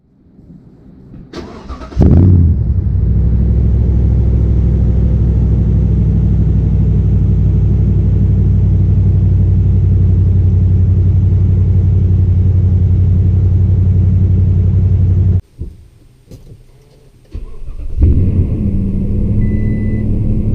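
A large 5.7-liter V8 engine in a Toyota Tundra pickup truck idles with a steady, deep rumble throughout, briefly dropping and sputtering near the end before settling back into a low drone.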